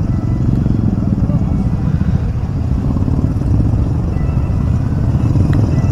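Motorcycles on a Distinguished Gentleman's Ride breakfast group ride in Hyderabad rumble loudly and continuously at close range, a dense engine drone mixed with voices as the riders pull in.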